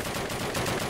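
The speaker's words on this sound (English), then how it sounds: "Those are all Russian guns." Russian weapons firing in Call of Duty, a dense continuous rattle of automatic gunfire, loud and close for under a second.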